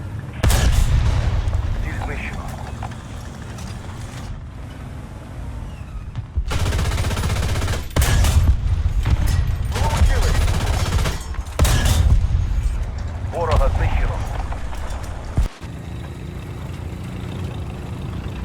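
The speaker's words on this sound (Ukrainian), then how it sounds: "Артилерія. Координати. Степка. Два. Знищити. Дельта. Два. Прийнято. Починаю обстріл." Heavy artillery shelling in the War Thunder video game, with repeated loud booms and rolling blasts filling the scene, radio-style voice commands spoken over the barrage.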